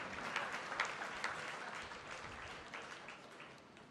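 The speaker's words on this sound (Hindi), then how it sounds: "थोड़ा सा तालियां वालियां बजाओ" An audience at a spiritual katha gathering claps steadily for about four seconds, loud at first and slowly fading, with no voices over it.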